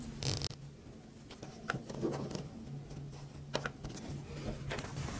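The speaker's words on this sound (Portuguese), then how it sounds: "Vamos pegar o zíper, colocar para baixo, aqui, cursor para baixo." A zipper slid down by hand while sewing a small women's wallet with a removable strap, heard close and quiet as scratchy zipping strokes over soft rubbing and handling of fabric.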